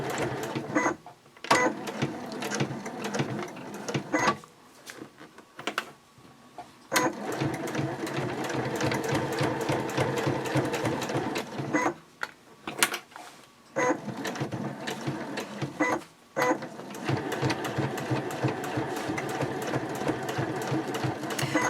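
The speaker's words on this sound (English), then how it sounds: "I'm ready to sew my side seams." A sewing machine stitching the side seams of a clear vinyl pouch, running steadily in long close bursts with short pauses between runs, a fast mechanical whir with rhythmic clatter and no voices.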